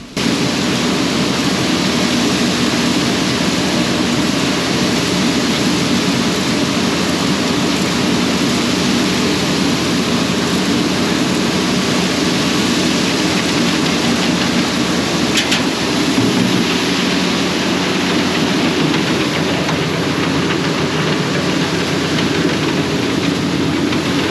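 A farm feed mixer churns a batch of soybean meal, corn distillers grain and a nutritional supplement, giving a loud, steady mechanical rumble that runs unbroken from start to finish.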